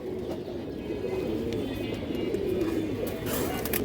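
A female pigeon of good breeding coos in soft, low, continuous murmurs, steady and close, with faint background noise throughout.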